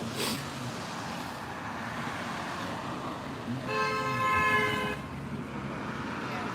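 A car horn honks from passing traffic near the Washington State Capitol, one sustained tone of about a second standing out over steady road and crowd noise outdoors.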